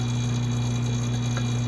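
A vacuum pot used for degassing soft plastic bait resin drones steadily throughout, a loud constant mechanical hum with no break and no one talking.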